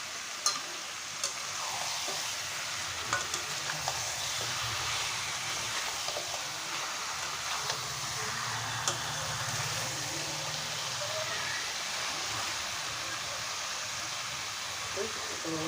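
Chicken meat frying in oil in a pan, a steady broadband sizzle with occasional stirring scrapes, continuous and moderately quiet throughout, with some speech-like murmur underneath.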